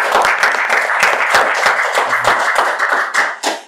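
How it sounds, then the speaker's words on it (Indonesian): Loud, close applause from a small studio audience closing a podcast, dense clapping running steadily before tapering off near the end. "Tepuk tangan dulu sebelum kita tutup."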